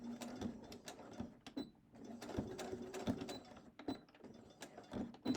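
A sewing machine backstitches a shirt seam, giving quick mechanical clatters and ratcheting bursts in an uneven stop-start rhythm, close and fairly quiet with no talking.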